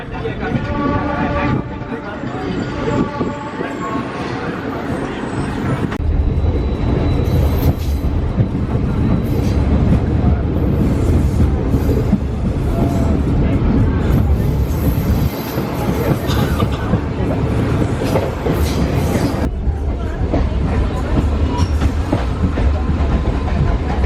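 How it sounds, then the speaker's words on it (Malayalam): Passenger train heading to Bangarpet, a loud continuous rumble of the carriage with rattling wheels, clickety-clack and some squealing, heard from inside, with people talking under the noise. "നമ്മളിപ്പം പേട്ടിലേക്കുള്ള ട്രെയിൻ കയറി നോക്കുന്നത്"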